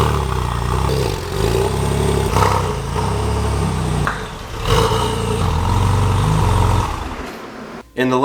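A beat-up, high-mileage 996-generation Porsche 911 Turbo rolls indoors, its engine rumbling low and steady with some clatter, the drone swelling briefly, then cutting off near the end.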